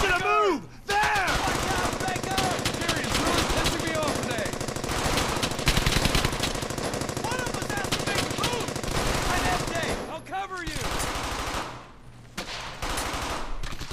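Sustained automatic gunfire from the World War II shooter Brothers In Arms: Hell's Highway, a dense rattling barrage that continues almost throughout, with ricochet whines and shouted voices mixed in and a brief lull near the end.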